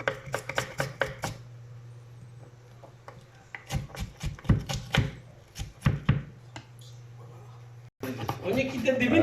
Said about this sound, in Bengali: এই যে এখন পেঁয়াজ কাটা হইতেছে, দেখেন এরকম সুন্দর করে আপনারা ছোট ছোট করে কেটে নেবেন